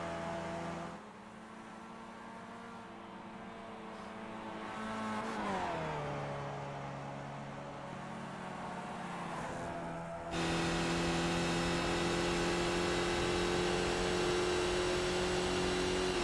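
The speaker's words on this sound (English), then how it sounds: "We got Stefan Vappa doing donuts in turn 1." A race car doing donuts at Lime Rock Park in a sim racing game gives off a steady engine drone with rising and falling revs. The pitch sweeps down partway through, then the engine holds a louder, sustained whine, and no one speaks.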